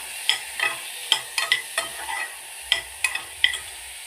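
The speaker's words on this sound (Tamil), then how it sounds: "இப்போ நான் நெய்யில் வந்து எல்லாத்தையும் மொத்தமாக போட்டுட்டேன். நல்லா வதக்கி விட்டுக்கலாம்." Onion, tomato, cumin and garlic sauté in ghee, with a quiet sizzle beneath sharp, irregular clinks and scrapes of a spoon against the pan, heard for a baby-food kichadi.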